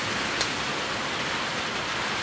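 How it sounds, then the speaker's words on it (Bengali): Heavy rain pours down in a steady, dense hiss, loud and unbroken throughout, with no other sounds breaking through. "আর বৃষ্টি দেখো কিরকম"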